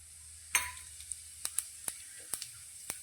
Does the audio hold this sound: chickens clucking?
no